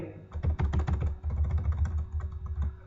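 Rapid clatter of keys on a computer keyboard as a C program is typed in, dense irregular taps running steadily and close by, with no talk.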